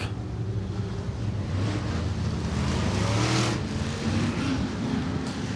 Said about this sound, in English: heat race number 3 coming to the racetrack.